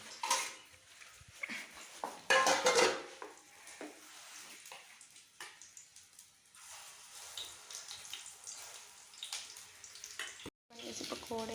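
Paneer pakoras frying in a pan give a soft, steady sizzle with occasional clinks of utensils and pan scraping, some louder clattering early on, and voices talking quietly over the cooking.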